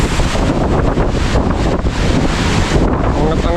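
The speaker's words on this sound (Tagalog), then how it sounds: "Hangin ah." Strong typhoon wind buffets the microphone in a loud, continuous roar with gusting surges, a dense rushing sound that fills the whole stretch with no pause.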